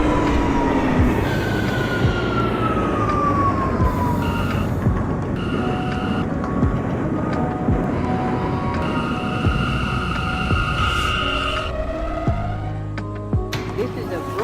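A New York City subway train on the Brooklyn-bound M local runs in the OpenBVE train simulator game, with a loud steady rumble of wheels on rail, rising and falling motor whines and occasional squeals, continuing throughout.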